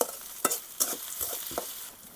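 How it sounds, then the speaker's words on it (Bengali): Chopped onion, garlic and green chilli frying in oil in a wok make a steady close sizzle, broken by several sharp scraping stirs of a spatula. "এখন পেঁয়াজ রসুনটা কিছু সময় ভেজে নেব ভালোভাবে।"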